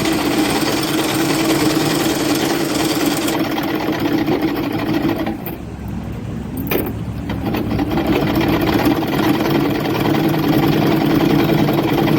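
A sewing machine stitches underwear fabric with a loud, continuous mechanical whirr that briefly drops in the middle before resuming.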